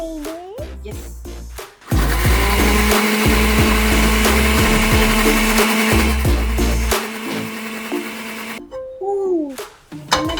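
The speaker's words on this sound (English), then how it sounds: "Now let's blend it." A blender mixing green pancake batter whirs loudly for several seconds with rough grinding and rattling, bracketed by brief voices before and after.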